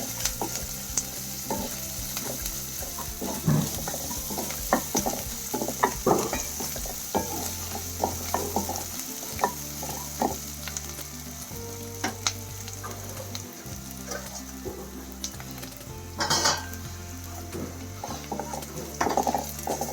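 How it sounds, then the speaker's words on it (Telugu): Ginger garlic paste frying in a pan for an egg tomato curry, with a steady sizzle throughout and frequent scraping, clattering stirs of a utensil against the pan, close and fairly loud. "ఫ్రెష్గా పట్టి పెట్టుకున్న అల్లం వెల్లుల్లి పేస్ట్ కొంచెం వేసుకోవాలి. అది పచ్చి వాసన పోయేదాకా వేగనివ్వాలి."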